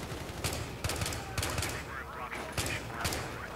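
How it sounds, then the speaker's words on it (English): Rapid bursts of gunfire in the video game Battlefield 3, several sharp repeated volleys at irregular intervals, fairly close and punchy, with a voice talking over part of it. "finally, some shooting"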